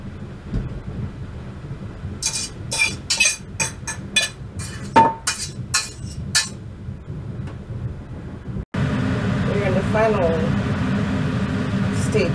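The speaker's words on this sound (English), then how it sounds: "Drain your pasta." Cooked pasta drained from a pot in a budget home kitchen: a run of sharp metallic clinks and knocks from the pot, then a sudden, steady rushing pour of water that carries on loudly to the end.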